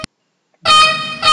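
A digitalised model locomotive's sound decoder plays a bright, loud horn blast after a short click and pause, sustaining with a slight dip before swelling again.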